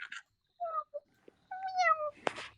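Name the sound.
person imitating a kitten's meow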